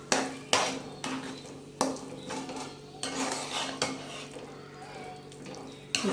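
Mashed eggplant bharit stirred in a metal kadhai, with a spoon repeatedly scraping and knocking against the pan in uneven strokes over a faint sizzle, close and moderately quiet.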